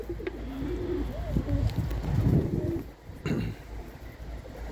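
Pigeons coo in low, rolling calls close by, over a breezy background with some wind noise on the microphone.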